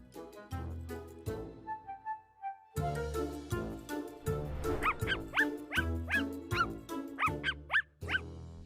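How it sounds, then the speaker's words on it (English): A dog barks in a quick run of repeated yaps mixed into music with a steady beat, loud and close, with no talk. "Is that Mr. David's dog"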